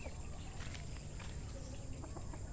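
Chickens cluck faintly at a backyard feeding spot, soft scattered calls heard at a distance over steady outdoor ambience and insect-like buzzing.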